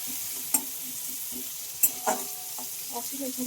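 Chopped onion fries in a pan, a constant sizzle with occasional scraping stirs and a few louder clanks, heard up close with no speech over it.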